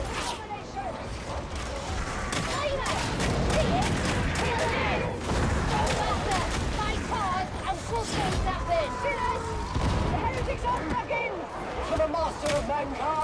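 Pistol gunfire from the video game Darktide sounds in fast, close shots over clanking mechanical noises and game chaos, while a player talks throughout.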